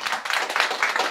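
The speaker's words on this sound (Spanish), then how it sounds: "Dele un aplauso." Family and friends gathered outdoors give a brief burst of applause, a dense patter of many hands lasting about a second.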